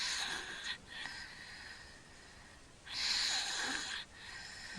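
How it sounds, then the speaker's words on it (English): A sleeping child snores through an open mouth, two long raspy wheezing breaths separated by a quieter pause, close and steady with no talking. "You can hear him snoring."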